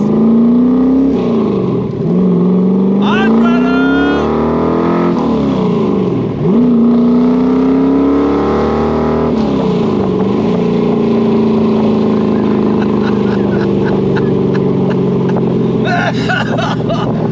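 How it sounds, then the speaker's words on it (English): A loud 502 cubic inch V8 with side pipes in a Chevrolet Corvette Stingray rumbles up close, revving up and dropping through gear changes in repeated surges, then settling into a steady throaty cruise. "that 502 cubic inch V8 with the side pipes sound glorious"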